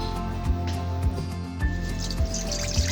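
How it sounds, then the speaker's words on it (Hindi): Milk is poured over soaked rice in a pan while making badami kheer, giving a soft, steady liquid trickle with a few faint drips over low background hum. "ये मैंने इस पर दूध डाल दिया है"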